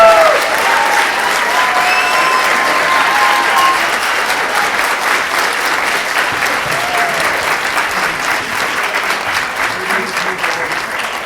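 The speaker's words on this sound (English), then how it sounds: "let's give them a round of applause" Loud, sustained applause from a lecture audience at the Japanese American National Museum, thanking models at a tattoo-themed opening event: dense continuous clapping that fades slightly toward the end, with a few voices calling out.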